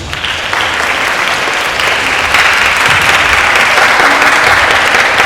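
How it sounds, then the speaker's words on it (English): An audience applauds a presenter at a school final competition at Vajiravudh College, a dense, loud and sustained wash of clapping that holds steady throughout. "Give a round of applause to Incus, please."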